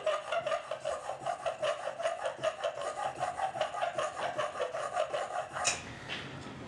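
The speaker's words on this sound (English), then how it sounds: "So let's just put an edge on there. So diamond stone, this is the 1000 grit." A block plane blade is rubbed back and forth on a 1000 grit diamond stone, giving a rhythmic rasping scrape with roughly a dozen even strokes, close and clear, ending with a brief clatter.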